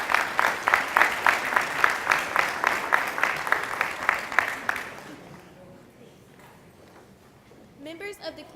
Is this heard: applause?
yes